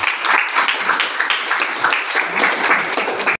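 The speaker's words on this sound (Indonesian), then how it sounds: "Tepuk tangan dulu." A high-school class gives a round of applause after a student presentation on global warming, steady dense clapping from many hands for a few seconds before cutting off abruptly.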